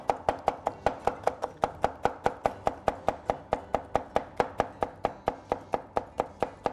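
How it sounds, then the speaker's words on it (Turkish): A knife chops pepper into small pieces on a cutting board, about thirty-five crisp, evenly spaced strokes in a steady rapid rhythm, close and clear with no talking. "aynı şekilde ufak ufak doğrayalım."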